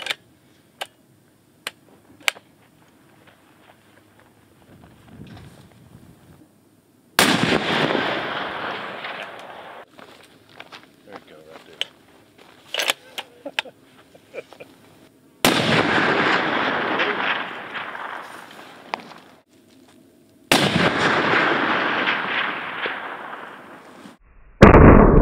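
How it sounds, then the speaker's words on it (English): Three heavy, booming shots from a King's Arsenal .50 BMG rifle, each a sharp loud blast followed by a long rolling echo outdoors, spaced several seconds apart with faint ticks and clicks in between. "Let's have some action. We're going to shoot this thing. King's Arsenal 50 BMG."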